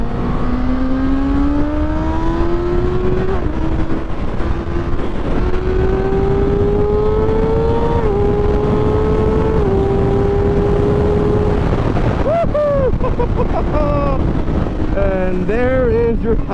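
A 2022 Kawasaki ZX-6R 636 sport bike accelerates hard on the highway. Its loud engine whine climbs in pitch through several quick gear changes, under constant heavy wind roar.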